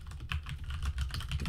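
Quiet, rapid clicking of a computer keyboard as a command is typed, a short close burst of keystrokes.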